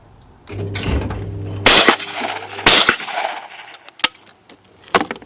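Shotgun blasts at English-style skeet targets on an outdoor range: two loud, sharp reports about a second apart, then a couple of fainter clicks and a lighter pop near the end.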